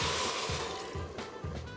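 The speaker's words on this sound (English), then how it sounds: "I'm going to add some of that bouillon and then 4 cups of water." Water pouring into a cooking pot with bouillon for a vegan soup, a steady broad splashing rush that fills the short clip, with soft rhythmic low thumps underneath and no talking.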